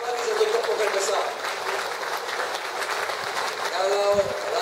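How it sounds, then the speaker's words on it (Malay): Crowd at a PKR election dinner rally in Lembah Pantai applauds for Nurul Izzah, continuous massed clapping mixed with crowd noise throughout. "Kita bagi satu tepukan besar."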